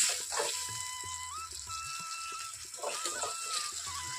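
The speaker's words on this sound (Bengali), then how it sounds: "আমি এখানে একটু পরিমাণ জল দিয়ে দেব" Water poured into a pan of masala for khosholla do pyazi, a steady watery pour and sizzle with faint clinks, close and moderately quiet.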